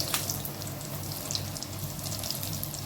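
Eggplant deep frying in hot oil, a steady dense sizzle and crackle that holds level throughout with no voices over it.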